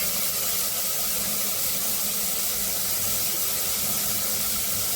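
Tomato and ginger-garlic paste sizzle hard in a hot pan for a prawn and potato gravy, a loud continuous hiss and crackle held close with no talk.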